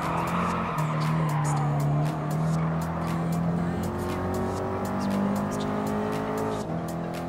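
A new Alpine race car in Gran Turismo Sport on a circuit at Osage Village, its engine droning steadily and rising and falling in pitch as it shifts, with tires squealing through corners, loud and continuous.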